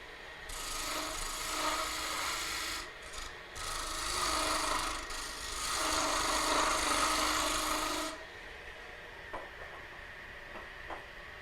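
A skew chisel cuts wood on a spinning lathe, giving a steady loud scraping hiss for several seconds that swells and eases, then gives way to a quieter motor hum with a few faint taps.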